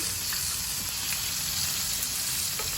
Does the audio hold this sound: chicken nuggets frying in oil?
yes